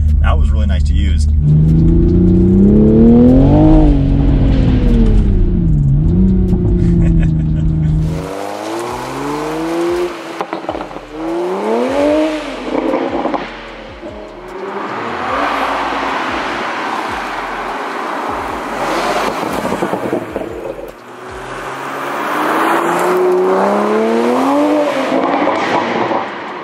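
A Toyota A90 Supra revs hard on launch control, then accelerates through several rising gear pulls with a loud, close engine note and brief pauses between shifts, with no talk over it.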